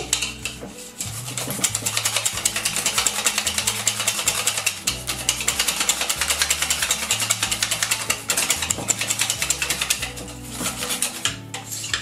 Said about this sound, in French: je vais bien le battre pour enlever tous les grumeaux